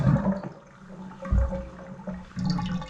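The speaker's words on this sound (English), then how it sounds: "We're gonna fill the tub up a little bit and then release the drain just to get a little bit more volume of water." Water released from a bathtub drain rushes and gurgles loudly down the pipes in a steady, churning flow, surging again toward the end.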